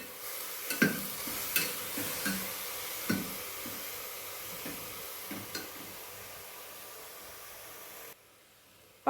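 Carrots sautéing in ghee being stirred in a pan, with soft scraping stir strokes and faint sizzling recurring every second or so, fairly quiet and close, ending in a near-silent moment.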